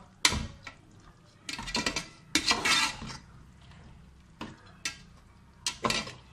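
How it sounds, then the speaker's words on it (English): Ingredients being stirred and mixed in a cooking pot, with intermittent scraping and clinking bursts of a utensil against the pot, separated by short quiet gaps. "Once we have it added, we're going to mix it well."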